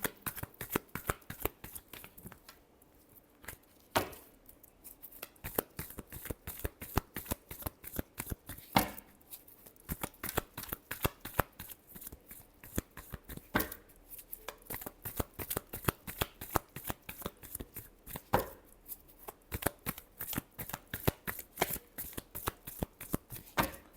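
Tarot cards are shuffled by hand in a long, close series of crisp riffles and soft slaps, repeating in quick bursts with brief pauses between them.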